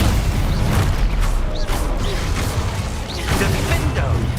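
Dense spell-casting combat effects in Hogwarts Legacy: loud booms, bursts and whooshing magical blasts with mechanical clatter, continuous and layered over a low rumble, with voices faintly present.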